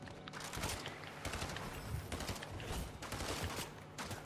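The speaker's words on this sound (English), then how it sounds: "Oh yeah, I'm being shot at that." Dense gunfire rattles in Fortnite's TMNT mode: rapid overlapping bursts and shots in quick succession, continuous and fairly close, with no talking over them.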